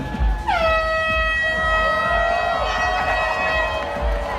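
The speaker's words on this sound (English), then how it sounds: "Listen for the sound of the air horn" A loud air horn blasts and holds for several seconds over a crowd murmuring and cheering outdoors.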